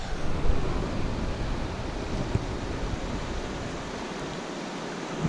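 Rapids on the Menominee River make a steady, broad rushing roar of turbulent water, loud and unbroken throughout with no voices.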